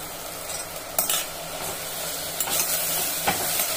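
Mint leaves sizzle in a pressure cooker pot while a mutton biryani is being made, with continuous close frying hiss and a few sharper scraping stirs of a spoon against the metal.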